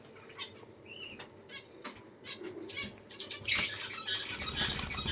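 Young budgie chicks flap their wings in quick, soft fluttering bursts at close range, the flapping growing busier toward the end, with faint squawks mixed in.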